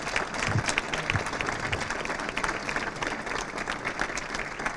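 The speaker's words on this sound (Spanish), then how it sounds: "un aplauso para ellos porque el proyecto sobrevive gracias a ellos" Audience applause at a talk on the Las Cabezuelas archaeological site, a steady, dense wash of many hands clapping throughout, moderately loud and sustained without pause.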